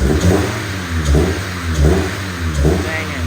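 A Honda CRX engine revs repeatedly, rising and falling in about four even bursts over a steady idle, loud and close.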